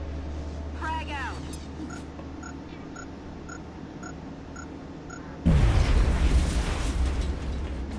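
Frag grenade detonating in XCOM: Enemy Within, a sudden loud blast with a rumbling tail that follows a stretch of quieter game sounds and brief chirps.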